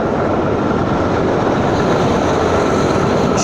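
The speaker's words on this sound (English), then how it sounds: "Train." A train passes close by, a loud, steady rumble of rolling wagons and rail noise that holds at full strength for the whole stretch, with no voices over it.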